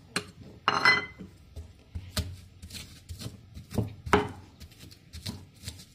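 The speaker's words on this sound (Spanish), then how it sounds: "vamos a ir moliendo poco a poco los ingredientes aquí en el molcajete para que queden pues, mucho más moliditos" Garlic being pounded and ground in a stone molcajete after peppercorns, a series of irregular close knocks and gritty scrapes of stone on stone, moderately loud with no talking.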